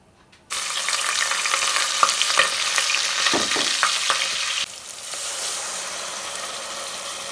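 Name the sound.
stirring and frying jollof rice in a pot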